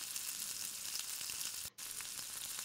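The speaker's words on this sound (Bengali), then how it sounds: "এটা একটু ভাজা ভাজা হয়ে গেলে পরে আমি তার মধ্যে দিয়ে দিলাম আদা কাঁচা লঙ্কা আর পেঁয়াজের পেস্টটা" Paste of ginger, green chili and onion fries in a pan with a steady, close hiss and crackle of hot oil, briefly cut off for a moment before resuming.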